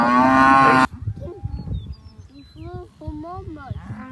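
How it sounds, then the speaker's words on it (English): A cow on a working cattle ranch, among cows and calves being worked and branded before spring turnout, gives one loud, close, sustained moo, followed by a person talking and calling over outdoor background noise. "That's a cow."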